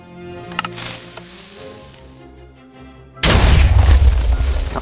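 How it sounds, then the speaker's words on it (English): TNT blasts in a Minecraft slime farm: a sharp pop and crackle early on, then a loud sustained explosive roar bursting in near the end and filling the rest of the moment. "let's see if I can get through a few more TNT drops here"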